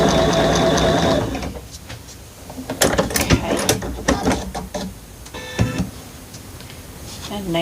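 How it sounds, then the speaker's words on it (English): A sewing machine stitches a quilt block with a quarter-inch seam, running steadily at first and then in short bursts with fabric handling sounds between them. "I'm sewing 1/4 of an inch away from the blue line"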